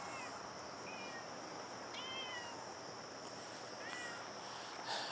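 A cat meowing several times, short rising and falling calls heard faintly over steady background hiss and noise, spaced a second or so apart.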